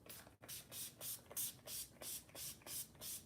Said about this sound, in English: Nothing like an All Nighter setting spray.